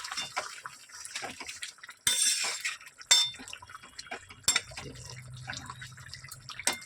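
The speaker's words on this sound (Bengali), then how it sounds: "এবার একটু নাড়াচাড়া করে দিই" Cauliflower, potato and duck egg curry stirred in a pan with a metal spoon, close clinks and scrapes against the pan, a few sharper knocks and a soft bubbling underneath, fairly quiet with pauses between strokes.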